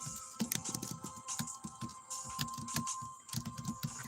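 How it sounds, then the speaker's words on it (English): Rapid keyboard typing while someone enters an answer, a quick irregular patter of clicking keys that runs steadily throughout at moderate loudness, with no talking over it. "I'm typing in my answer real quickly."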